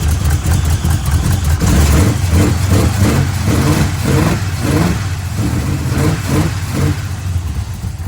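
A 1970 Pontiac Tempest engine, weak after years of sitting, revs repeatedly in loud, uneven surges over a rough, rumbling idle close by.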